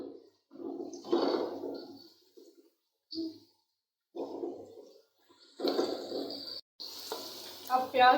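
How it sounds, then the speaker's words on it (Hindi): Onions frying in a pan with turai and chana dal in a home kitchen, heard as bursts of close crackling sizzle and stirring, broken by short pauses. "अब आप देख सकते हैं प्याज फ्राई हो रहे हैं"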